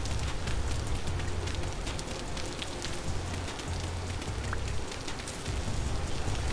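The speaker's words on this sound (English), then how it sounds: "we have so much rain right now" Rain falling in the survival game Vintage Story, a steady dense patter with scattered droplet ticks and a soft low wash underneath, continuous and fairly faint with nothing else over it.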